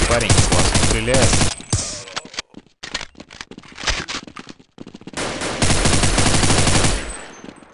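Rapid automatic gunfire in Counter-Strike 1.6 Shock Edition, loud and close in two dense bursts with a brief scatter of sharp single shots between them, clattering and mechanical, with no talk over it.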